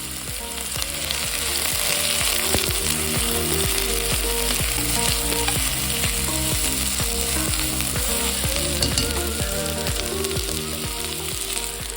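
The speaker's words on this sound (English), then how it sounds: "while our veggies are sauteing" Onions and garlic sauté in olive oil in a Dutch oven over medium-high heat, a loud, continuous close-up sizzle with occasional scraping stirs and a steady low hum underneath.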